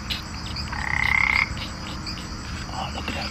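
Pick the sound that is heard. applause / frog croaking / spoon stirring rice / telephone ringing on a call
frog croaking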